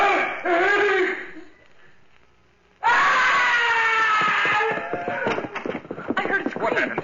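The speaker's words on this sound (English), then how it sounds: "heard it scream." A creature's shrill, wavering screams fill a radio drama scene, two loud bursts split by a brief hush, the second fading into ragged cries and whimpers.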